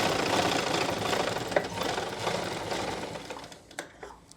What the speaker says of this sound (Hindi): यहाँ पर अब सिलाई लगा देंगे।